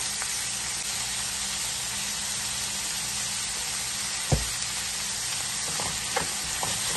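Onion and ginger sautéing in a pan for a roasted-coconut chicken curry, heard as a continuous close hissing sizzle with a sharp utensil knock near the middle and a few lighter taps later; no talk.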